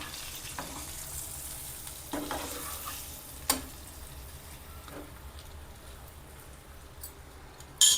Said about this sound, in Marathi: एक साईडने चांगलं आपण फ्राय करून घेऊया, नंतर पलटी करूया आपण